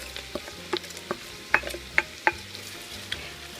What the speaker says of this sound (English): Now we're going to add the cabbage.